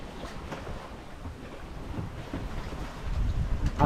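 A sailboat running downwind off Capraia carries a steady rush of wind and water, broadband and blustery, swelling louder near the end with no voices.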